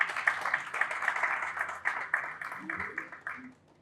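An audience at a Nigerian business awards event gives a round of applause, dense steady clapping close by that thins out and fades near the end, with a voice briefly heard underneath.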